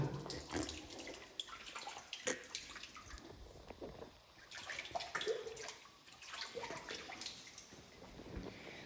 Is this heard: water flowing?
yes